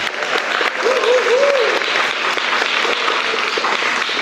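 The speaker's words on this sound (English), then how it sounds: "Please give them a round of applause as we end." A crowd bursts into sustained, dense applause, steady and loud throughout, with a brief voice rising over it near the start.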